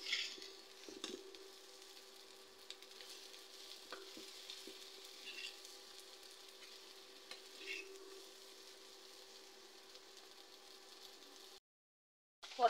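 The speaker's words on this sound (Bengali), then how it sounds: "পেঁয়াজ বেশ খানিকক্ষণ ভেজে নিয়েছি, এবার এর মধ্যে দিয়ে দেবো এই ভেজে রাখা পটল" Pointed gourd and onions sizzle in a frying pan with a soft steady crackle, as a spatula stirs and scrapes in a few light knocks, then the sound cuts out briefly near the end.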